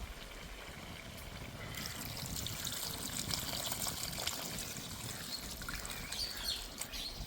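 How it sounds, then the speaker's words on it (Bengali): Water poured into a pot of browned chicken curry, cooked without oil, gives a steady splashing trickle that starts soft and swells after about two seconds, then runs on close and continuous. "এবার দিয়ে দেবো জল"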